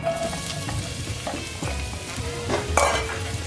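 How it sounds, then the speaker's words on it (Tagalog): Onions sautéing in hot oil in a pan give a steady, close sizzle, broken by a few sharper scrapes and clatters from stirring. No voices are heard. "Now, saute ko na yung onions."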